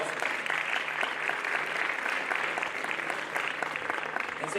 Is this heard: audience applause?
yes